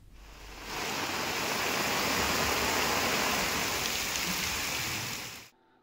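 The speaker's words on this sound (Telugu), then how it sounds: "ఆదిలాబాద్ లో ఉదయం నుంచి కుండపోతగా వాన పడుతోంది" Heavy downpour in Adilabad, a dense steady hiss of rain that swells in quickly, holds loud and even for several seconds, then drops away sharply.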